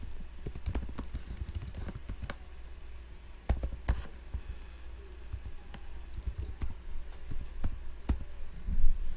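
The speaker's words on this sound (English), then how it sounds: "So I'm going to type this in." Keys tapped on a computer keyboard while entering numbers into a Python session, irregular clusters of clicks up close with brief pauses, no talking.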